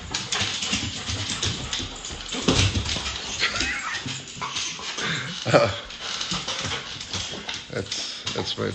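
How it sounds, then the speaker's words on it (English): A young dog whimpers and yips in a room while someone talks about surfboard resins, the soft whining sounds coming intermittently under and between his speech. "that's my baby dog"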